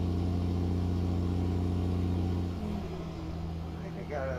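A Ford CLT 9000 truck in American Truck Simulator, pulling a KSW tanker, drones at a steady loud pitch under hard throttle, then shifts down to a lower engine note partway through, with faint noise over the top.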